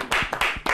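Several sharp hand claps in a quick, uneven burst, loud and close, like brief applause from a small group in a studio audience.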